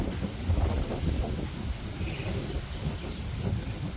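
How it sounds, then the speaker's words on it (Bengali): Wind blowing outdoors in a rural village, a steady low roar with continuous buffeting and gusting against the microphone. "দেখেন যে কি সুন্দর বাতাস।"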